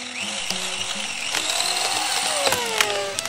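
Toy chainsaw cutting down a tree, a close, buzzing mechanical rattle with a sliding whine that drifts in pitch, running continuously with sharp clicks mixed in.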